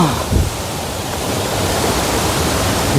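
A waterfall in a rocky forest roars as a dense, steady rush of falling water, loud and close, with no break throughout.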